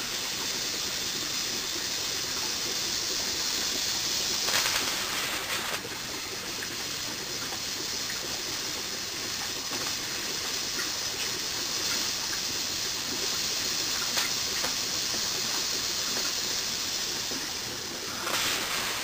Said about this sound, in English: Pretty good little steam torch going there.